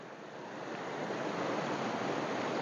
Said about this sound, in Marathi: संपूर्ण निसर्गाच्या कुशीमध्ये असा हा सुंदर नयनरम्य असा धबधबा आहे